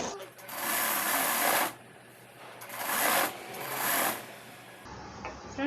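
A sewing machine stitches a designer blouse in short runs, its fast whirring bursts stopping and restarting two or three times, close and clear with a voice speaking briefly between the runs.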